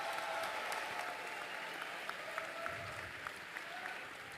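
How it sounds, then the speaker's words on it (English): Audience applause at a World Rubik's Cube Championship 3x3 final, a steady, fairly quiet wash of clapping from a distant crowd, holding evenly throughout. "Let's have a big round of applause"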